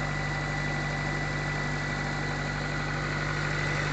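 A 1995 Acura Integra GSR engine idles steadily after a cold start, a continuous close-up mechanical hum with a constant rhythmic pulse and no talking.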